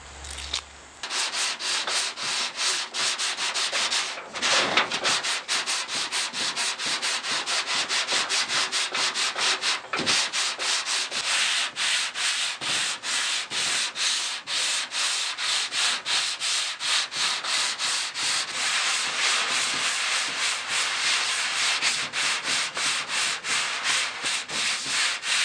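Sanding glaze filler on a 1967 Mustang door skin: continuous rhythmic back-and-forth rasping strokes, close and loud, running steadily without talk.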